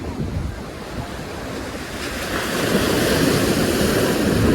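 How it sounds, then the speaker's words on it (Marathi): Ocean waves break and surge steadily onto the shore at Mumbai, a continuous roaring wash that builds louder toward the end, with wind buffeting the microphone. "लाट आली आली आली"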